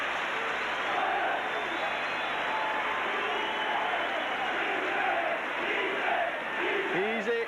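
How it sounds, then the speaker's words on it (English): A rugby league crowd at Leeds v Warrington in 1989 roars and chants "easy, easy" in a rhythmic swell, a dense, distant stadium wash that holds steady throughout. "Easy, easy, shouting the crowd."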